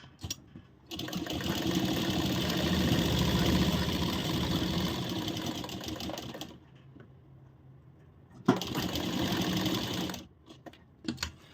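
An electric sewing machine stitches a blouse in a fast, even run for several seconds, stops, then hums through a second shorter burst, close and clear with no talking.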